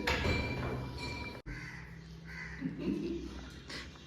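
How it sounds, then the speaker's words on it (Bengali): A crow chick fallen onto a rooftop in hot weather gives a few raspy caws at close range, with faint talking and background noise around it. "কাকের বাচ্চা এই গরমে"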